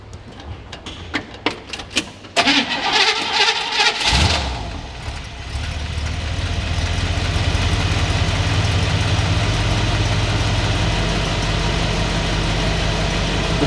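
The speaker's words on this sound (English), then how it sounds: "I haven't started this car yet today. Let's see if it'll make a liar out of me." A 1956 Chevrolet Bel Air with a rebuilt 265 V8 cranks with a few clicks, catches with a loud roar, then drops into a steady, even idle that runs close and prominent to the end.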